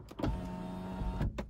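The power sunroof of a 2020 Lexus ES300h hybrid tilts with a steady electric motor whine that runs for about a second, framed by soft clunks at the start and stop, close and clear inside the quiet cabin.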